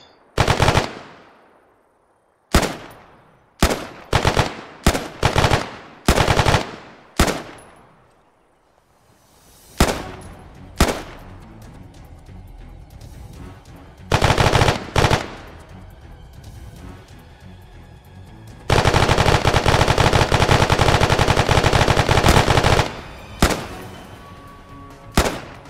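Light machine gun fire in a military shooter game, loud close bursts of rapid shots separated by pauses, with one long sustained burst near the end.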